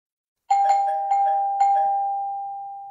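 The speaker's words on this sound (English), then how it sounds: "Doorbell's ringing." A doorbell in an old radio drama chimes four times in quick succession, two-tone rings that leave a long fading tone at the end, clear and alone.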